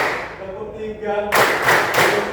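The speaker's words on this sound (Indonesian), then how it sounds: "Tepuk 1, tepuk 2, tepuk 3" A school class claps in a counted pattern, a few loud, close group claps bursting out after a spoken count from a teacher.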